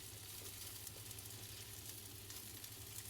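Potatoes browning in clarified butter for fried potatoes with bacon, a steady dense sizzle that hisses on evenly throughout, close and unbroken, with no voices.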